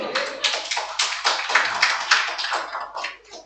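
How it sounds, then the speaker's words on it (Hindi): Students in a class clapping together, a steady burst of many hands applauding for about three seconds, fairly close and tapering off toward the end, with no talk over it. "इस सवाल पे तालियां"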